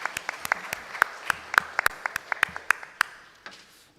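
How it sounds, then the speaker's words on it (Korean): A church congregation claps together at a Sunday morning worship service, a round of sharp, distinct hand claps that stays fairly steady and then thins out to a few scattered claps before stopping. "우리 하나님께 영광의 박수를 돌려드립니다"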